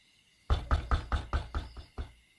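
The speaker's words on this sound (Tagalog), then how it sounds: "may malakas na kumatok" Eight loud, close knocks on a door, in a fairly even rhythm with a brief pause before the last one.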